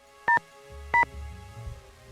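Telephone keypad dialing in the Nancy Drew video game: two short, clear touch-tone beeps about half a second apart, followed by faint low background rumble.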